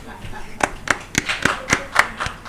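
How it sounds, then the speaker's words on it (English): A small audience gives sparse, scattered claps for the speakers at a Nigerian public-speaking record attempt, about eight separate sharp hand claps spread unevenly over a couple of seconds against a quiet room. "Another round of applause for everyone."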